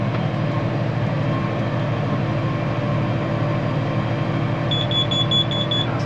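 A hay baler clearing up cow hay drones steadily throughout, then gives a rapid run of short, evenly spaced beeps near the end to warn that the bale chamber is nearly full.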